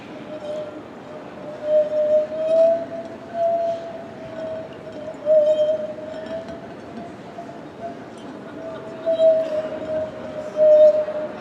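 A thick-walled glass trombone plays a sustained, wavering tone with slight pitch slides, swelling and fading in several breaths over a steady airy hiss.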